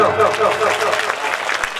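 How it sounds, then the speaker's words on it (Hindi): An audience at a Bhagwat katha gathering claps together for a young performer, a dense steady patter of hands lasting about two seconds, with a voice speaking over it. "एक बार ताली तो बजा दो भैया के लिए सभी लोग"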